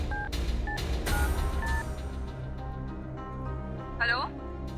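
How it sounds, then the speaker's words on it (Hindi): A telephone is dialed: a quick series of sharp keypad tones, about five beeps spread over a few seconds, then a rising electronic chirp, all over a low, steady background hum. "अभी रिया को फोन लगाते हैं।"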